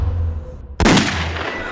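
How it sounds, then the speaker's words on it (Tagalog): A single sharp gunshot cracks out loudly after a low ambient hum, its blast ringing and decaying over the following second, within a Filipino horror-action audio drama. "putok ng baril"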